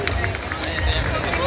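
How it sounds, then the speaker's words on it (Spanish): An audience at the opening ceremony of the Feria Nacional de la Huasteca Potosina 2023, held at the Teatro del Pueblo in Ciudad Valles, gives loud, steady applause mixed with crowd cheering and babble from start to finish. "¡Un fuerte aplauso!"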